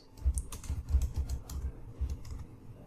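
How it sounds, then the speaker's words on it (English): Typing on a computer keyboard at a desk, a steady run of close, crisp key clicks with heavier thumps from the larger keys, no speech. "So I'm typing"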